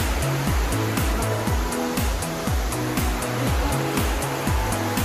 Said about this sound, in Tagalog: Galing sa falls itong tubig na to